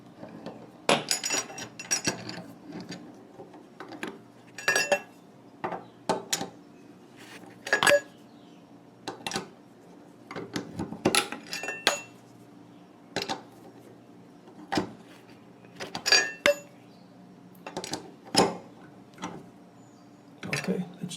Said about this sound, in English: just insert the wrench in the seat. Turn it clockwise.